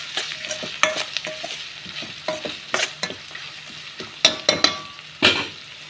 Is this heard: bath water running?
no